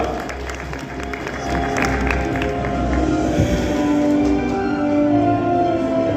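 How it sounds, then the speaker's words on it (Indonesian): Applause from a crowd at an award ceremony during an Indonesian regional government work meeting in East Nusa Tenggara, loud and continuous with cheering and background music beneath the claps. "Kita berikan tepuk tangan yang meriah untuk Kabupaten Saburai Jua."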